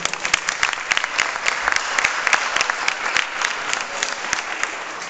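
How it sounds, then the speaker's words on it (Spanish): An audience applauds a band member at a live music show, steady dense clapping with a few sharper individual claps standing out. "También le gusta que lo aplaudan."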